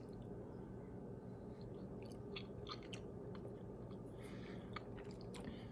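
Someone eating home-canned chicken marsala moistened with broth: faint, close chewing with soft wet squishes and small bites against a quiet background, no talking.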